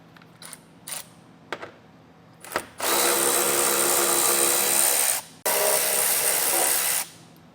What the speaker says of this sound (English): the first thing we're going to attack is going to be the 10mm screws that we have located right here